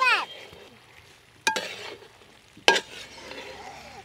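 Chicken curry being stirred in a frying pan, a soft sizzle underneath with two sharp metallic clinks of a spoon against the pan, close by.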